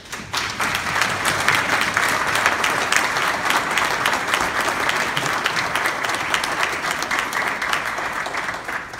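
A conference audience in Miami gives sustained, dense applause for an institution, steady clapping throughout with no speech.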